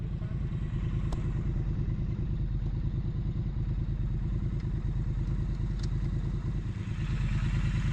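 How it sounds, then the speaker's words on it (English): A new motorcycle rides through a parking lot, its engine giving a loud, steady, close throbbing putter of rapid regular pulses that holds throughout, with a couple of faint clinks on top. "This is her first ride on the new bike."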